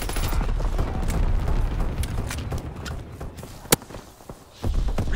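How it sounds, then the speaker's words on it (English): Mortar rounds exploding in Call of Duty WW2, a rumbling barrage of dull thuds and crackling blasts with one sharp crack partway through and a heavy boom closing it out. "Sending mortar rounds."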